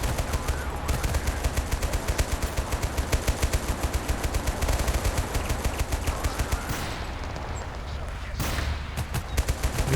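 A turret machine gun fires in a Total War game in rapid, continuous bursts with a dense rattling rhythm. The fire is loud and close, with short pauses near the end.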